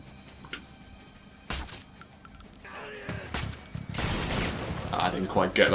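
Automatic weapon fire from the shooter Metro: Last Light: a sharp isolated shot, then heavier, noisy bursts of gunfire that build toward the end over a busy background of game sounds.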